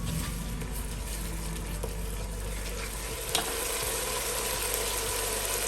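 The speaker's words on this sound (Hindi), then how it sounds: "मसाले को अच्छी तरह भून लेंगे।" Masala spices fry in a pan for Pakistani chicken pulao. A steady, loud sizzle runs throughout, with a low hum underneath and one brief scrape partway through.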